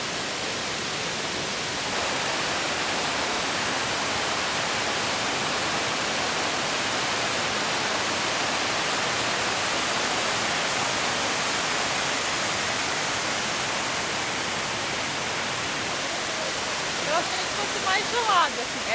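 Bridal Falls, a tall waterfall at Harrison Hot Springs in Canada, roars as a dense, steady rush of falling water, loud and unbroken throughout with a faint sound of movement near the end.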